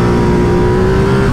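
A Ducati Multistrada 950 S rides fast on worn tires, its engine loud and close in a sustained, rising drone with a steady whining tone, running continuously without speech.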